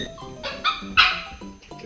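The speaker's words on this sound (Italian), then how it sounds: "ho trovato questa cagna. Questa cagnolina. Fondamentalmente impazzita" An agitated, excited female dog barking indoors, a quick run of sharp, loud yips and barks at close range with whiny tones between them, and no speech over them.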